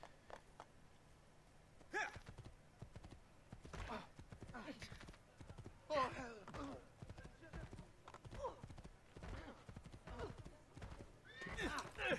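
A horse gallops in the video game Assassin's Creed II, with repeated hoof clip-clops in uneven bursts and occasional whinnies, under a person talking.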